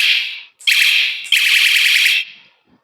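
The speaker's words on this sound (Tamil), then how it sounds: "அதோட ஹாரன் இது" An electronic horn on a bicycle light sounds three loud, shrill buzzing blasts of rising length, each sharply cut off, close to the microphone with short silent gaps between them.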